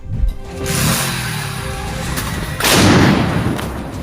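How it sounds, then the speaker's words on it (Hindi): A loud, sudden bomb blast at night at the start, followed by a sustained roar and rumble, with a second heavy boom surging about two and a half seconds in. "जैसे ही बम फेंका जाता है तो एक जोरदार धमाका होता है।"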